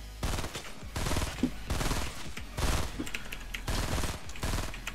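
Shotgun fire in a video game: repeated loud blasts come in several bursts across the span, close and dominant, with little talk.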